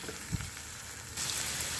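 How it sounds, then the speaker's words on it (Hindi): Spice masala sizzles and fries steadily in hot oil in a pan for a mutton fat dish, a close, continuous crackle that grows louder partway through, with a brief stir sound early on and no talk. "ये मसाला को हम अच्छे से भून लेते हैं जब तक इसमें से मतलब ऑयल ना छोड़ दे।"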